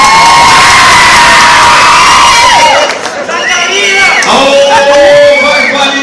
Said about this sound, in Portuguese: A salva de palmas do Pio, nosso programa.